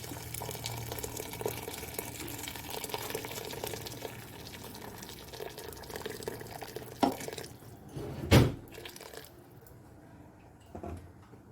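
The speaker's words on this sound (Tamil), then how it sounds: "இப்போ வந்து நம்ம தண்ணி ஊற்றிக்கலாம் அதுக்கு தேவையான அளவுக்கு." Water is poured into simmering chicken biryani masala in a pot, a continuous liquid splashing and trickling that ends in a few louder isolated splashes and drips, with no talking.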